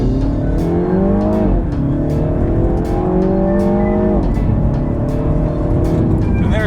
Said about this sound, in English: one more 0 to 60 run. This time I'm going to brake torque it a little bit, give it a little bit of turbo spool.